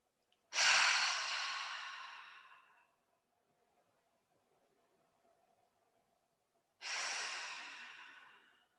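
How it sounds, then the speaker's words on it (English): Two deep, slow breaths during a yoga session for balance, each a close, airy exhale that fades out, separated by several seconds of near silence, with no talking. "close your eyes, and take a couple of deep breaths."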